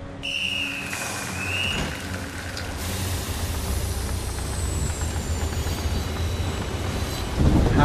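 A train in the video game Beyond: Two Souls rumbles steadily and close, with a low continuous roll, a brief high whistle-like squeal near the start and hissing brake or air sounds, with no talking.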